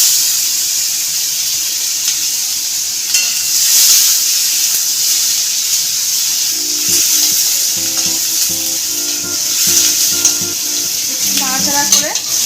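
Tomato and green chilli frying in a pan for a Bengali curry, a loud, continuous hiss of sizzling oil with occasional stirring knocks and clinks in the latter half.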